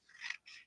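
Scissors snip through paper while cutting out a paper doll, two short close crisp cuts, the first longer, the second briefer, with no talking.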